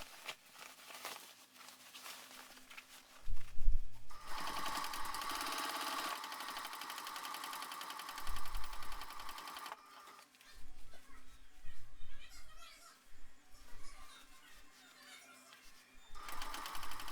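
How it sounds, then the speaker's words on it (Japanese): A sewing machine stitches the outer fabric and bottom panel of a tote bag together, its fast mechanical whirring running in long steady bursts with brief pauses, close up, with faint voices in the background. "向きを変えて表布と底表布を合わせて縫い進めます"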